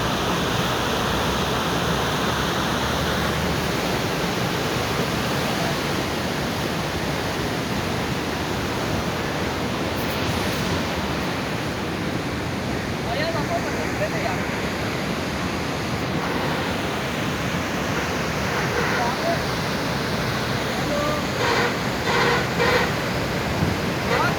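Heavy rushing water pours through a waterfall or flowing channel at Head Islam, a dense, continuous roar filling the scene, steady and close, with faint voices underneath.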